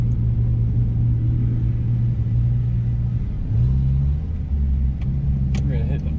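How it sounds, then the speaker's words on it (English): A school bus rumbles through a mud pit at the Gopher Dunes Mudfest, its low engine drone steady and loud, with a shift in pitch partway through and people talking close by. "All right, school bus going through."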